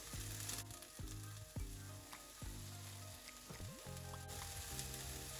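Egg frying in a pan for chilli lemon noodles, a soft continuous sizzle broken by clinks and scrapes of stirring, quiet and close with no voices.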